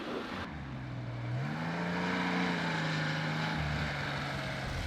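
A Tuthill Porsche 911 rally car drives with a steady, loud engine drone that holds one tone, then rises and settles, with no talk over it.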